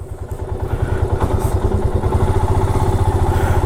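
A motorcycle engine just restarted after a roadside breakdown runs close by with a steady, rapid low thumping rhythm and some clattering mechanical noise throughout.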